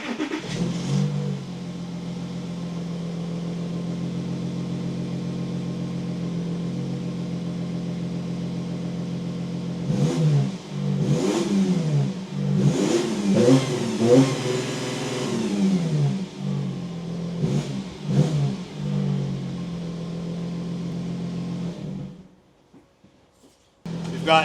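Audi Q7 with a Darkside resonator and stock muffler, its engine droning steadily before a run of sharp throttle blips and revs, then falling quiet near the end; loud and close, no talk.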